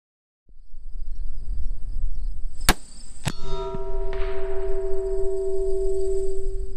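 A rifle round striking a steel target at long range sounds as a sharp metallic clang ringing out over steady outdoor ambience, followed by a second fainter ping and a lingering tonal ring.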